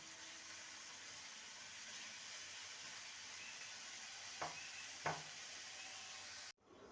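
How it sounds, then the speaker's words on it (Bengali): Masala paste frying in oil over medium-high heat makes a quiet, even sizzle, with two soft stirring scrapes near the end before it cuts off abruptly. "মিডিয়াম টু হাইতে রেখে মশলাটাকে কষিয়ে নেব যতক্ষণ না মশলা থেকে তেল ছেড়ে যাচ্ছে"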